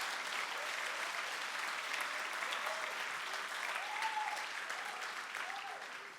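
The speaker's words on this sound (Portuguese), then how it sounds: "Aplauda ao Senhor de coração." Church congregation applauding together, a dense, steady wash of clapping from many hands filling the room, moderately loud and fading slightly at the end, with a voice speaking faintly over it.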